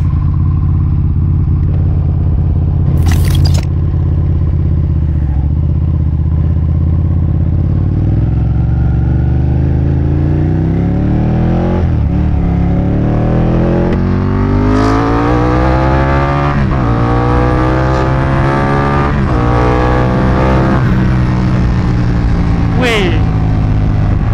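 A Ducati 959 Panigale's engine drones loud and close during a ride, its pitch rising and falling with the throttle over wind rush, with a brief sharp clatter early on.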